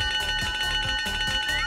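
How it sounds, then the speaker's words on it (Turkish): Several bell rings sound in steady repeated strikes close by, each leaving a bright ringing tone, with a rising electronic tone near the end. "Bu zil yine de işe yarayacak."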